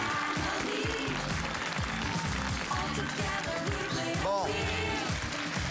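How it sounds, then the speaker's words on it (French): Studio audience on a French family game show clapping, with the applause partly buried under loud overlapping speech and lively voices throughout. "applaudissez-les."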